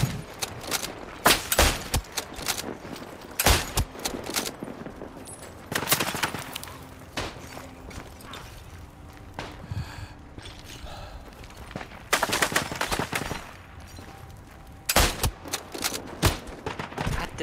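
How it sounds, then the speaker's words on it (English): Machine gun in Isonzo, a World War I shooter, firing in repeated rapid bursts between quieter stretches of ambient battle noise, loud and close. "Maybe I can use the machine gun."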